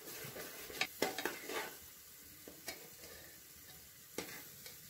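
Masala being sautéed in a pan for a chicken dinner, with a cluster of stirring scrapes and clinks early on, then quieter sizzling broken by a few more spatula knocks against the pan.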